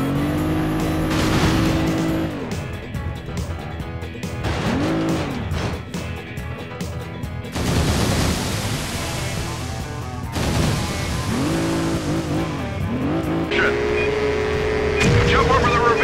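Engine of a game car revving and accelerating hard toward a ramp jump in the PS2 stunt-driving game Stuntman, loud and continuous with rising and falling pitch sweeps, tire noise and impacts mixed in.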